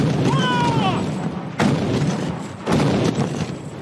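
Artillery guns firing on a battlefield, heavy booms landing at intervals with a sharp onset near 1.6 and 2.7 seconds over a dense rumbling din, with voices shouting beneath.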